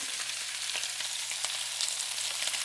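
Ginger frying in oil for a pork curry, a close, continuous bright sizzle with faint crackles and light stirring taps, no voices.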